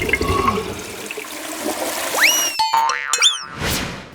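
A household toilet flushes with a loud rushing gush of water, then the cistern refills with rising gurgles and whistling tones as water pours back in, heard up close with no talk.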